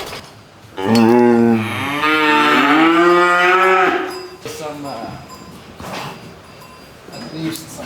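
A cow on a cattle ranch lets out one long, loud moo that rises and holds for about three seconds, followed by quieter lowing and rustling farm background.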